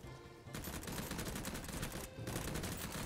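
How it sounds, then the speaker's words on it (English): Dense, loud automatic gunfire from the video game BattleBit, a near-continuous fusillade of rapid shots that briefly pauses twice before resuming. "I'm getting shot at."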